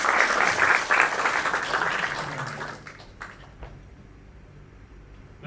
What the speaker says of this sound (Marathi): थोडं एकदा जोरात, परत एकदा जोरात टाळ्या.